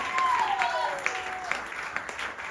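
A church congregation applauds the Lord during a morning service, a dense patter of clapping running throughout, with a voice speaking over it.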